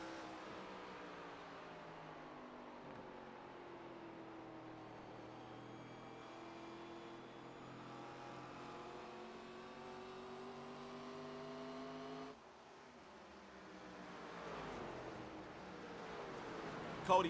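Race car engines in iRacing at WWT Raceway, a faint steady drone of several motors holding revs with shifting pitch, a brief drop near the end and a small pickup in loudness as they accelerate.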